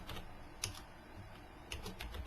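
Fingers type a Halo console command on a computer keyboard, a quick run of soft key clicks with a couple of sharper taps, close and quiet over faint background hiss.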